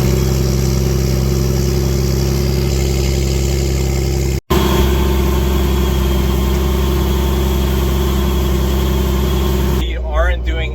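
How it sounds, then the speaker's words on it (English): A deep, throaty tractor engine idles steadily and loudly close by, with a brief cut partway through and a slight change near the end. "It barks. It is just deep, throaty sound."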